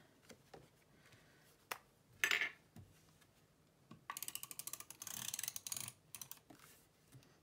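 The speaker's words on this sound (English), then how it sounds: "let's go with the tape runner again because it's at hand" A handheld tape runner dispenses adhesive tape for card making with quick ratcheting clicks, a few isolated snaps and then a longer rapid clicking run, close and crisp in a quiet room.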